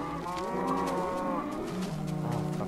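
A Minecraft cow moos repeatedly in a low, drawn-out, wavering voice on a farm, with steady game ambience underneath and no talking.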